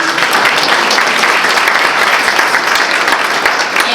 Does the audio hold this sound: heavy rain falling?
no